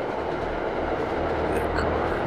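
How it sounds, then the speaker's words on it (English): A train rolls past close by, a steady loud rumble of wheels and rail noise that holds without a break the whole time. "I laugh as the train passes by."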